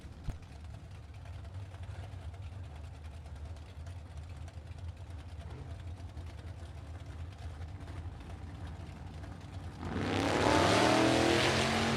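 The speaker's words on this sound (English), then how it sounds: "What a performance with a 4-speed Chevy from Kenosha for Tom Herring" A 4-speed Chevy from Kenosha races at a vintage drag race, heard as a distant engine drone that swells abruptly into a loud, close roar near the end.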